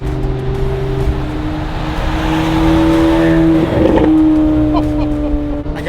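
Supercar engine, likened to a Lamborghini Aventador, revs hard and sweeps past up close, its loud rising drone swelling and shifting pitch mid-pass with a burst of roar as it goes by.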